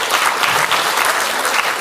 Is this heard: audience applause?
yes